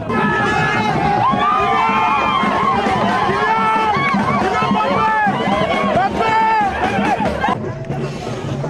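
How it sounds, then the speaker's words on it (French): A huge, excited crowd of fans gathered outside Yaoundé-Nsimalen international airport, loud continuous cheering, shouting and babble close by, with scattered whistles and calls rising above the din. "retrouver à l'extérieur une foule immense de fans, avides de le voir de près"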